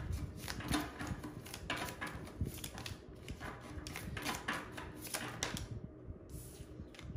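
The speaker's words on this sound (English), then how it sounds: "let me give this a good shuffle" Rapid papery riffling and snapping of a new tarot deck being shuffled, repeated in several bursts over a steady background, close to the listener.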